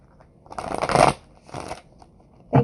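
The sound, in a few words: shuffling a deck of cards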